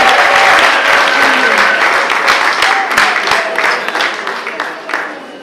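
Wedding audience applauding a couple, a dense, loud wave of many hands clapping that gradually fades, with crowd voices mixed in.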